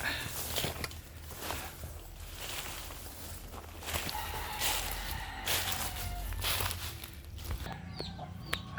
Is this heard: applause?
no